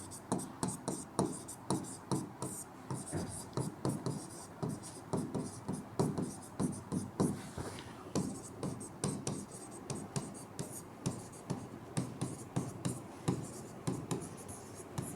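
Pen handwriting on a paper application form for a sugarcane growers' co-operative society, with steady, rhythmic scratching strokes that run close and clear throughout, punctuated by short pauses.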